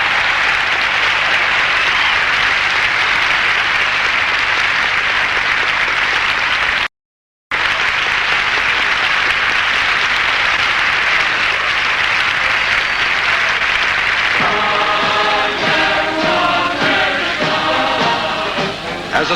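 A large outdoor crowd at a 1976 Washington Monument rally cheers and applauds in a loud, sustained roar of clapping, briefly cut out, with music starting to rise underneath near the end.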